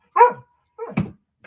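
A pet dog barks indoors, giving a sharp close bark, then a second, rougher bark after a short pause, with a faint trailing sound at the end; no talking.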